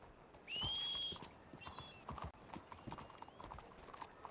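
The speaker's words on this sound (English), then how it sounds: "We have the same freaking horse." Horse hooves in the WildRP video game clip-clop in a steady walking rhythm, close and clear, with a brief whinny near the start and no speech over it.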